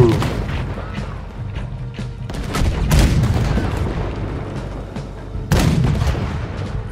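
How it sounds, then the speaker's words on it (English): Cannon fire in the video game Red Dead Redemption 2, with heavy booming blasts and rumbling explosions over a noisy battle background, two especially loud hits standing out. "Oh, I'm actually using the cannon."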